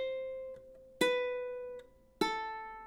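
A few ukulele notes ring out in a sparse, uneven pattern, with two sharper plucked attacks each decaying slowly, the playing sounding slightly disjointed and soft.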